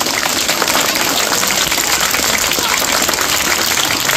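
An audience applauds a headmaster at a school, a steady, dense wash of clapping from many hands that holds at full level throughout with no break.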